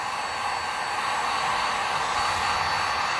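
Heat gun blowing a steady hot-air roar over an acrylic paint pour, a loud continuous whoosh close by with no talking.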